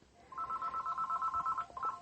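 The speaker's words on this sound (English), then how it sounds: "Because the phone is ringing." A telephone rings with a steady electronic trill, pulsing rapidly for over a second, breaking off briefly, then resuming, fairly clear against a quiet indoor background with no talk.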